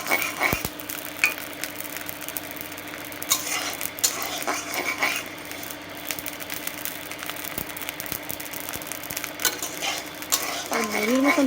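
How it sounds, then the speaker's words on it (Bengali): Rice grains pop and puff like puffed rice in a hot pan during village cooking, with scattered sharp crackles and clicks over a low sizzling, frying background. "মুড়ির মতন ফুটছে"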